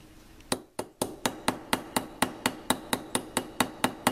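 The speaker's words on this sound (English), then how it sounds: "You can straighten that out by continuing on the mandrel, which I might just do right here a little bit." Brass bracelet being hammered on a metal mandrel, struck about fifteen times in an even, quick rhythm of sharp ringing taps, close and clear with no voices.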